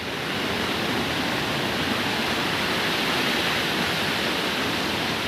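Strong floodwater rushing under a bridge during a typhoon, a loud, steady broadband roar that holds constant throughout with no voices.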